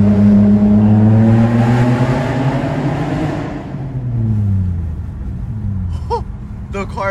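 A manual-swapped 7th-generation Nissan Maxima with an ISR exhaust revs loudly up close, then the deep droning note sweeps down and fades into a quieter idle.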